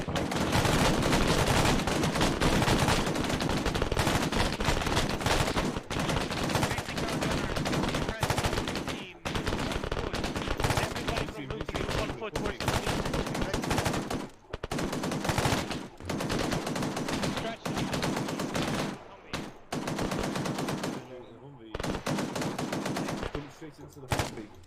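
Sustained squad gunfire volley from ArmA, dense automatic bursts and overlapping shots rattling continuously and loudly, with brief pauses between volleys.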